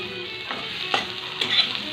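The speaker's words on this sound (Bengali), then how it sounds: "কড়াইয়ের মধ্যে দেখো এরকম করে ভাজা, দেখো এরকম করে ভাজা।" Stuffed okra fries in oil in a wok with a steady hiss of sizzling, broken by a few soft scrapes and stirs of a spatula against the pan.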